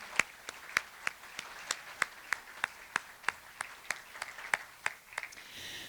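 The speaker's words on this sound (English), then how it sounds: "please, a quick round of applause for them." Audience at a college business breakfast series event applauds, heard as faint, steady claps in an even rhythm that carry on for several seconds before trailing off.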